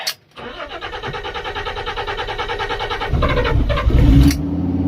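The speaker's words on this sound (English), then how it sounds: "start the car again" A Fiat Stilo Abarth engine cranks briefly, then catches and starts, settling into a steady rumble that swells slightly near the end.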